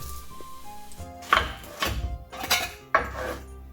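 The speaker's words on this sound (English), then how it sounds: "take your spatula and make sure you scrape underneath it so you can then lift it from the pan" A spatula scrapes and knocks against a pan as it works under a crisp-bottomed grandma-style pizza, several separate bursts of scraping with short pauses between, close and fairly loud.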